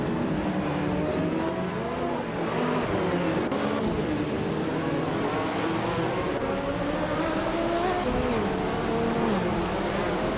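A 1983 Lancia C1 and other race cars circulate in a race, with loud, continuous engine roar that rises and falls as cars rev and pass, dense and unbroken throughout.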